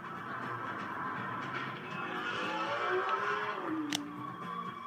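A Ferrari 599 driving on a road test through the hills, its engine a steady, fairly loud drone with shifting tones, a gearshift swoop near the end, heard from close by.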